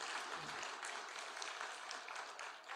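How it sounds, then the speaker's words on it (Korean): Congregation applause inside a Korean church during a Sunday worship service, steady and broadband, filling the whole moment without a voice over it. "우리 모두를 위해서 큰 박수로 함께 격려하도록 하겠습니다"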